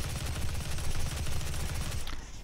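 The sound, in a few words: micro missile gunfire in the Doom video game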